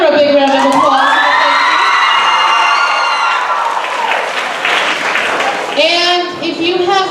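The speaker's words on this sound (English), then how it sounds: "So if you have Senora Calvillo, give her a big round of applause." Students in a school gathering cheer, whoop and applaud loudly for a teacher, with children's shouts and excited voices riding over continuous clapping that swells again near the end.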